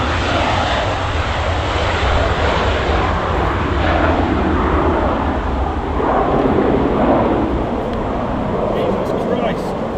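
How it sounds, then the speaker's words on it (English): A private jet's engines roar steadily nearby in a continuous broadband rush, loud throughout, with a voice talking over it. "You have to excuse the noise, there's a private jet over there"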